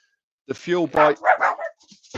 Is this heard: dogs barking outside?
yes